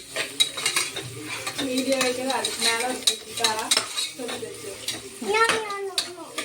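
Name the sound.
onions sautéing in a pan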